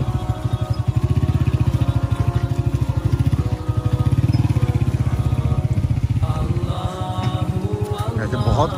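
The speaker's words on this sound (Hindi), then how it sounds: "बिलाल भाई को मैंने टास्क दे दिए यहाँ से बाइक को आगे ले जाने की" A motorbike ridden over a rough, broken road near a waterfall, its engine putting out a loud, steady chugging pulse. Clattering bumps grow toward the end.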